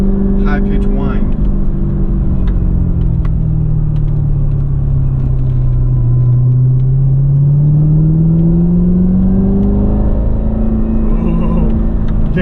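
Engine roar of a 757 HP supercharged Corvette Callaway Z06, loud and continuous from inside the car, with pitch sweeping down and back up as it accelerates, a high supercharger whine riding over the exhaust.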